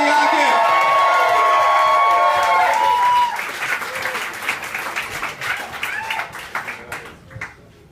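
A comedy club audience bursts into loud applause and cheering with whoops as a stand-up comedian is introduced, the clapping fading into scattered claps and murmurs.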